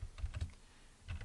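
Brief burst of typing on a computer keyboard, a few soft close clicks in two quick clusters, quiet and alone.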